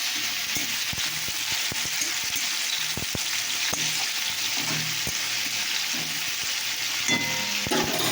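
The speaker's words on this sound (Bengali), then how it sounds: "তখন ভাবলাম আর ডাল আর আলু ভাজা করি। টমেটোর সামনে তুলে দিলাম, নেড়ে দিলাম।" Potatoes and tomato fry with a steady, close sizzle while a utensil stirs them, sending out repeated scraping knocks and clinks against the pan throughout.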